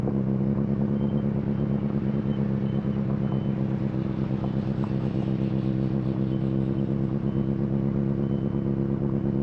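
A motorcycle rides over a rough, broken-up old road, its engine droning loud and steady throughout while loose clattering and rumbling from the uneven surface run underneath, with no one talking.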